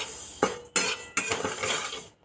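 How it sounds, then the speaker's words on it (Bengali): Moong dal is dry-roasted in a pan while a metal spoon stirs it, giving three scraping strokes with a clink at the start of each, close and fairly quiet, then a sudden stop. "1 মিনিট মতো কনস্ট্যান্ট নাড়ছি কিন্তু"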